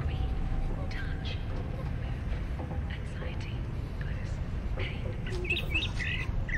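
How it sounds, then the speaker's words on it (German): Scattered bird chirps and tweets sound over a constant low rumble of ambient noise in the SCP Foundation game, the calls brief and irregular, growing busier toward the end. "Oh, Vogel."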